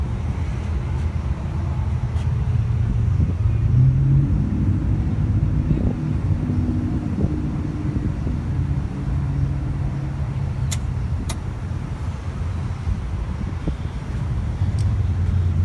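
Four-cylinder engine of a Toyota Tacoma pickup idling under the open hood, a steady low rumble running throughout with a few faint clicks and no talk.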